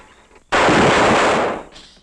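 Gunfire in the 1940 horror film The Devil Bat: one loud, close burst of shots lasting about a second, with a fainter crack trailing after, all heard alone with no talking.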